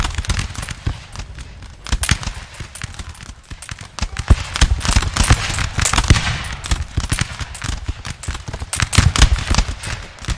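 Rapid musket volleys crackle without a break in a Napoleon: Total War multiplayer battle, loud, sharp reports piling on one another over ten seconds, with no talking.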